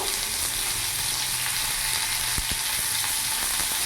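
Fresh raw mango pieces stir-fried in a pan with mustard seeds give a steady, close, loud sizzle, with a couple of sharp utensil knocks near the middle.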